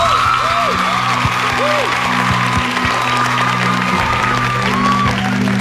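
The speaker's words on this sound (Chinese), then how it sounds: "全体每一个人都鼓掌。" A television studio audience applauding together during a singing game show, a loud sustained wash of clapping with sung or played musical tones running underneath.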